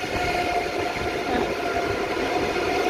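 A train stands at a station platform as passengers board a carriage, giving a loud, steady rumble with a faint hum and no clear clicks or announcements.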